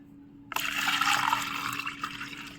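Liquid fertilizer being stirred into a litre of water for hibiscus plants, a steady close swirling, sloshing wash of water that starts abruptly and runs on with no talk.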